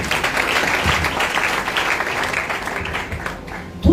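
A church congregation at a French-language worship service applauds in praise, a continuous, fairly loud wash of many hands clapping together for several seconds with almost no talk.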